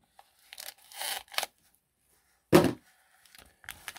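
A few short bursts of scissors snipping and tearing open a paper envelope, separated by quiet gaps, close and fairly soft, no voices.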